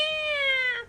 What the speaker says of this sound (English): She can meow loudly